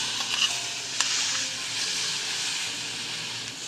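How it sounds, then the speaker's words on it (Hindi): Water for Kashmiri tea comes to a boil in a pot, giving a steady, close hiss and bubbling rush that holds at an even level throughout. "ये हमारे पानी में उबाल आ गया है"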